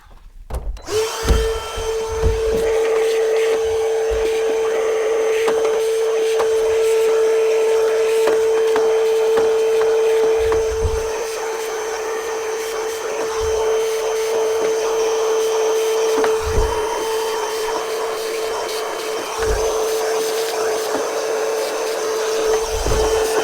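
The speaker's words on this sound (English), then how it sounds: "I'll vacuum the rest of the schmutz out" A loud vacuum cleaner runs steadily for about twenty seconds, sucking leftover seed and debris out of a hay planter during spring planting, with a constant motor whine and no talk.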